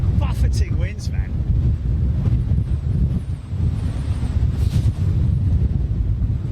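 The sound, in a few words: buffeting wind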